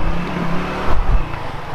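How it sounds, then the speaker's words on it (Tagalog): A motorcycle rolling into a parking spot beside a flea market under a bridge in Taipei, its engine a close, steady rumble that swells briefly midway with a short rev. "So for safety daw, pasok natin yung motor."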